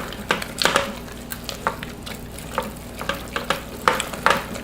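A spoon stirring cheese sauce for macaroni and cheese in a pan, with repeated scraping and wet sloshing strokes at an uneven rhythm over a light sizzle, close and clear with no talk.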